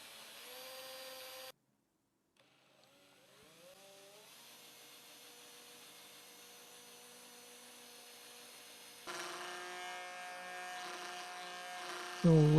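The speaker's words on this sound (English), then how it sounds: "I'm just going to begin by drilling out some access points." A small power drill bores access holes into a custom guitar body for an inlay, with faint whirring that briefly cuts out, then restarts and rises in pitch, swelling louder near the end.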